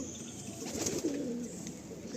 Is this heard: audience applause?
no